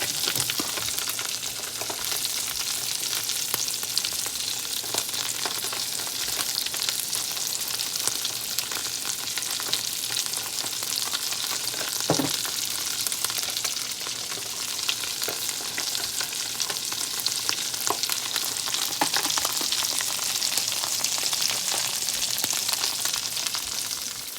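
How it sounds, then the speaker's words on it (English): Salmon fillet searing skin side down in a hot pan, a constant crackling sizzle with scattered sharper pops and one brief louder spit midway, steady and unaccompanied by voices. "After about a minute or two of frying skin side down, just peel the skin off"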